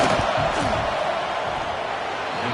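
Dense, steady roar of a football stadium crowd building before a field goal attempt, loud and continuous with no clear breaks.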